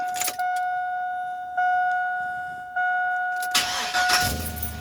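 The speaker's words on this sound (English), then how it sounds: "We'll prime it one more time, and then crank her up." On a 2002 GMC Sierra 2500 HD work truck with a new fuel pump, steady dashboard chimes ring first, then the engine cranks and catches with a sudden loud rumble at the end.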